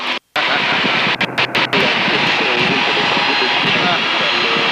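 Pitts S2C aerobatic biplane engine roaring loud and steady through a barrel roll, heard close from the cockpit with a brief cutout at the start and a few crackles.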